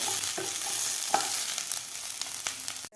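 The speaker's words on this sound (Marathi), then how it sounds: "बटाटा ब्रोकोली आणि मटार व्यवस्थित आपल्या तेलामध्ये फ्राय झालेले आहेत" Potato, broccoli and peas fry in hot oil in a pan, a steady close sizzle broken by a few clicks and scrapes of stirring, ending abruptly.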